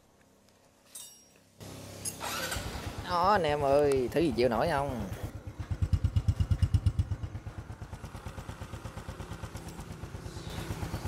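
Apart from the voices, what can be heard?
motorcycle engine running after maintenance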